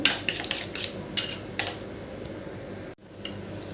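Turmeric and salt are mixed into a fish masala in a bowl, giving repeated clinks and scrapes of a spoon against the dish that start in irregular bursts, then settle into a steady, close, moderately quiet mixing sound with one brief dropout.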